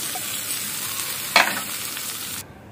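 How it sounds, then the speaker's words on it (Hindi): Hot tadka, a spiced tempering with asafoetida, sizzles steadily as it is poured into dal, with a sharp splash near the start of the pour and the frying hiss continuing close up before cutting off. "तो अब ये तड़का जो हमने बनाया है इसको डाल देंगे"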